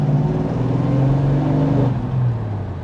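A 1968 Dodge Super Bee accelerates hard through the gears, its loud engine rising steadily in pitch before a brief dip at the shift and a renewed climb, close and continuous with no talking.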